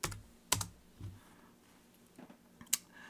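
Typing on a computer keyboard while entering a value in AutoCAD 2022: a few short, sharp key clicks spaced apart in a quiet room.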